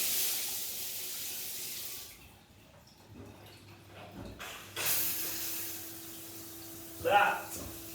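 A shower runs cold water in a newly fitted bathroom wet room, a soft steady hiss that cuts out and restarts, with a brief louder splash near the end.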